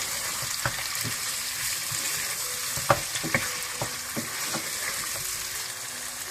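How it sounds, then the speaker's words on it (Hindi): Mutton sizzles and fries in a pan as ginger garlic paste is stirred in, a steady hiss with scattered scraping and clinking of the spoon against the pot. "आप इसमें पिसा हुआ अदरक लहसुन डाल दें और अच्छी तरह से मिक्स कर लें"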